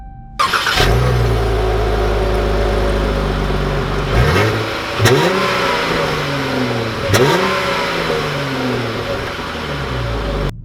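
A 2020 Dodge Charger SXT all-wheel drive starts up and accelerates, its engine rising and falling through several loud, close revving pulls and gear changes with no talk over it.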